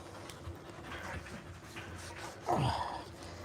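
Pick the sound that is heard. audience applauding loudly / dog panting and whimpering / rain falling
dog panting and whimpering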